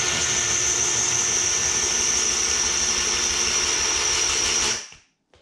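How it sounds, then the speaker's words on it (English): A power drill with a roughly 5mm bit drills the top off a rivet on a Husqvarna 701 or KTM 690 exhaust muffler, a steady, loud whining buzz running continuously before cutting off abruptly near the end. "You're just gonna drill the top off the rivet."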